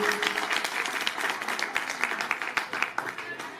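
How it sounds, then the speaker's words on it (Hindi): An audience claps at a formal gathering, a loose, uneven patter of many hands with individual claps standing out, fairly close and steady for several seconds. "तालियां बजाइए"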